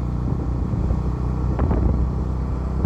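A motorcycle rumbles steadily on a ride toward Kedarnath through snowy mountain valleys, the engine's low drone loud and close with a brief revving flare partway through.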